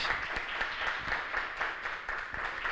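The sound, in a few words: audience applause for Carlos Andrés Gómez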